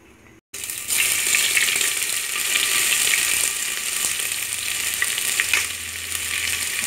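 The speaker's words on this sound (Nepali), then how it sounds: "अब प्याज हेराइज तेल तात्यो अब चाहिँ हामीले प्याज राख्दैछौँ" Onions frying in hot oil for a simple home-cooked chicken biryani, a steady loud sizzle with faint stirring scrapes running through, with no talking.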